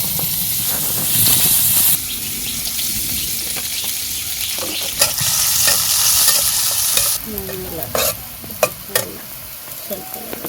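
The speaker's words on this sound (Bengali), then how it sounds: "মাছ ভাজার তেলে পেঁয়াজটা দিয়ে দিলাম" Chopped onion hits hot oil left from frying fish, setting off a loud, bright sizzle with stirring scrapes, easing slightly then flaring again, with a few sharp clinks of a spoon near the end.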